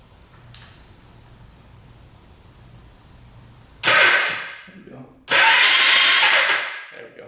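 After a quiet stretch with a faint click, a motorcycle starter jumped with a screwdriver cranks in two loud close bursts, the second longer, with a short gap between them.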